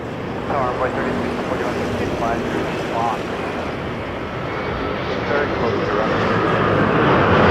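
A jet airliner sits on a runway at Toronto Pearson Airport, its broadband engine roar steadily building toward takeoff while radio chatter runs over it.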